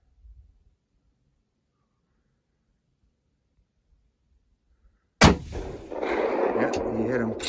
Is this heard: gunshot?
yes